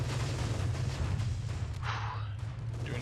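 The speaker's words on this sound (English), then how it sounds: "Doing incendiary rounds." Incendiary artillery rounds fire in the Company of Heroes 2 battle game, heard as a dense low rumbling barrage of thuds and booms with a brief hissing burst partway through.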